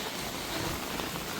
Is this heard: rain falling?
yes